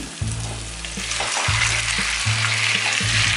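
Loud, steady sizzling of pointed gourd frying in a pan with spices, with repeated low scraping thumps as it is stirred.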